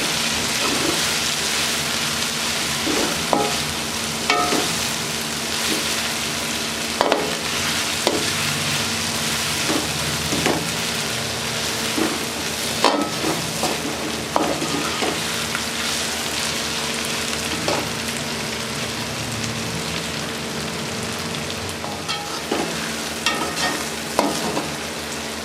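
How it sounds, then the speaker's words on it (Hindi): Potatoes, capsicum and green chillies frying in a pan, a steady dense sizzle with scattered clicks and scrapes of stirring throughout, close and continuous, with no talking. "हरी मिर्चें डालेंगे। बिस्मिल्लाहिर्रहमानिर्रहीम। अच्छे तरीके से फ्राई करेंगे।"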